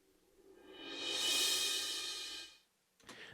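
A suspended cymbal roll builds from near silence into a bright, loud wash, peaks, then fades out, followed by a short faint rustle.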